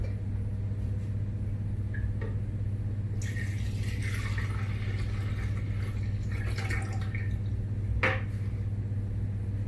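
Milk pours into a blender in a soft splashing rush for several seconds over a constant low hum, followed by a brief clink.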